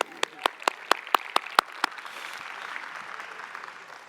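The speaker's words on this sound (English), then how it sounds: "Yes, applause." A conference audience at a debate and panel on robot intelligence gives a short round of applause: a few sharp, distinct claps ring out up front, then blend into a softer, steady patter of clapping that continues in the background.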